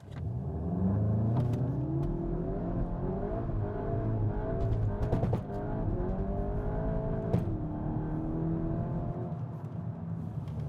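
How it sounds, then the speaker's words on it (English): A 2021 VW Golf GTI Clubsport launches hard under launch control with wheelspin, its engine revving up through rising, sweeping tones. A brief shift-like break interrupts the climb before the engine pulls on loudly and steadily, with no voices. "Right, now we can try launch control."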